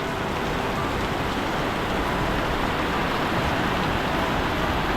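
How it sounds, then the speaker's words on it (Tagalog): Heavy rain comes down hard in a sudden outdoor downpour, a loud unbroken hiss of drops hitting the ground throughout, with nobody speaking. "Lakas ng ulan mga kadyok."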